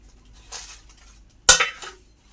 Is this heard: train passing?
no